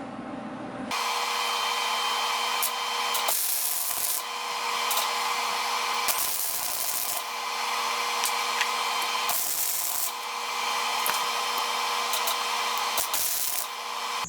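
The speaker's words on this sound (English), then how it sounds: "to do just a little bit of welding here to weld those two washers together and make it a stronger bond." Two steel washers being welded together for a beer tote build give off bursts of loud, harsh, crackling buzz, about five welds separated by short gaps, close up and with no voices.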